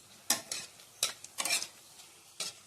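Whole spices (bay leaf, cardamom, cloves and cinnamon, with a chili) frying in a pan: quiet sizzle broken by several sharp scrapes and clinks of a spoon stirring against the metal, irregularly spaced and close.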